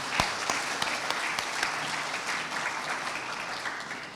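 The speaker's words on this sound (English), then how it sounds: "let's have big applause to Bu Novi." Sustained audience applause at an academic ecohumanism language and literature event, a steady dense wash of many hands clapping together at moderate loudness with no talk over it.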